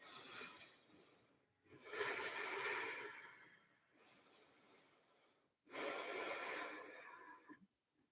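Slow, deep yoga breaths held in a wide-leg squat, each long airy inhale and exhale clearly audible and close, separated by short pauses, with no talking.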